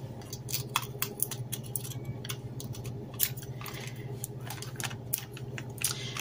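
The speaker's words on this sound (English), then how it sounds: "So anywhere it went over, I'm just going to cut that." Scissors snip through a clear acetate sheet on a handmade craft frame, making a close series of quick, crisp cutting snips at an irregular rhythm over low background hum.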